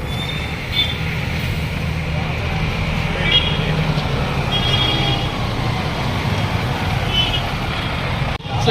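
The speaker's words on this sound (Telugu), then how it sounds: "సో ఇప్పుడే మన బస్సు వచ్చింది." A Morning Star Travels Volvo B9R AC sleeper bus pulling in at the stop in early morning, with a steady engine rumble, road noise and several short beeps or horn toots, while people talk nearby.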